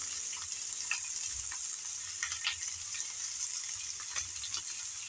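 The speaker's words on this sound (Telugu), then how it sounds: "మన బాయిల్డ్ బంగాళదుంపలు ఏ విధంగా ఆయిల్లో ఫ్రై అవుతున్నాయండి" Boiled potatoes frying in hot oil give a steady, soft sizzle with scattered small crackles and pops throughout, fairly quiet and even, with no talking.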